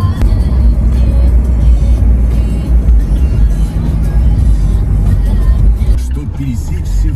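A car circles a park looking for a parking spot, its engine and road noise forming a steady, close, low rumble throughout, with a voice talking over it now and then.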